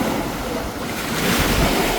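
Small waves break on a beach in Pattaya, Thailand, giving a continuous close wash of surf mixed with wind rumble on the microphone. The surge swells slightly toward the end.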